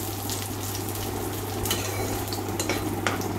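Spices sizzling steadily in a pan for toor dal, with grated ginger stirred in, a soft continuous crackle with faint scraping, close by and without voices.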